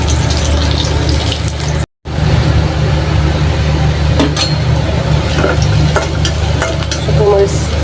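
Tomato fries in a pan for tomato chorchori with a close, steady sizzle and crackle under light stirring, with a low background hum and no talk.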